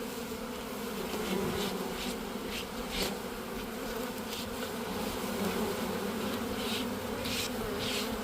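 A dense, steady buzzing of many bees during a bee removal fills the scene, close and continuous, with no talking.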